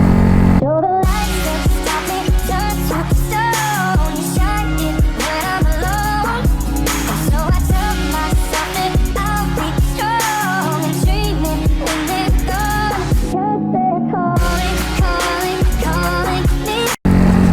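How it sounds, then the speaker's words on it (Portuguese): A Honda Fan 125 motorcycle with a loose, noisy clutch bell runs close and loud, its engine revving up and down in repeated pulls with a strong, droning tone, the noise cutting out briefly twice. "A campana da embreagem tá com folga, mano. Tá fazendo barulho."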